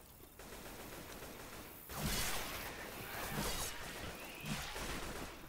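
Gunfire bursts from the Left 4 Dead 2 zombie game in a dark amusement park level, rapid shots and crashing hits arriving in repeated waves over a constant noisy backdrop.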